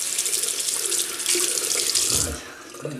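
Water runs steadily from a tap onto a synthetic shaving brush with cream, a bright hissing splash that briefly shifts and deepens before easing off.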